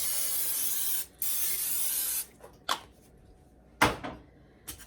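A long hiss of cooking spray into a crock pot, then a few shorter bursts separated by pauses, close and fairly quiet.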